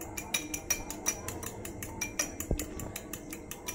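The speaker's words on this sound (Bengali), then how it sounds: "ডিমটা আগে ফাটিয়ে নেব। কাঁটা চামচ দিয়ে আমি ফাটিয়ে নিচ্ছি।" An egg is whisked with a fork in a bowl for a rasmalai recipe, giving a steady rhythmic clinking of metal on the dish, several quick taps per second, close and clear with no talk.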